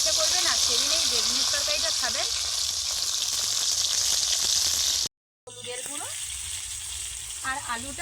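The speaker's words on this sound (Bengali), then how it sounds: "আলুগুলো একই রকম লাল লাল করে ভেজে নেবো" Potatoes deep-fry in hot oil with a loud, constant crackling sizzle that runs under a person talking, broken by one brief moment of silence.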